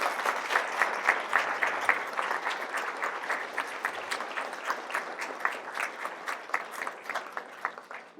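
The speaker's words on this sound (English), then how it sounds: "a great hand clap." Audience applause for women graduating from a women's school program, a steady burst of many hands clapping that thins toward the end into scattered individual claps, moderately close.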